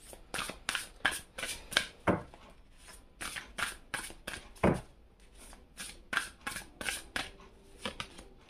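A tarot deck being shuffled by hand: a series of quick, crisp riffles and slaps, close and fairly quiet, coming in an uneven rhythm with short gaps between bursts and no speech.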